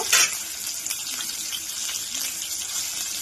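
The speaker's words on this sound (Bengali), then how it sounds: "এবার আলুগুলো ভেজে নেব" A steady, hissing sizzle of potatoes with turmeric and salt frying in hot oil, with a brief louder crackle at the very start and no voices.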